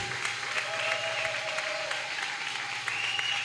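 Steady clapping from an audience at a Christian church gathering, moderately distant and continuous throughout, a dense wash of many hands with no voices standing out.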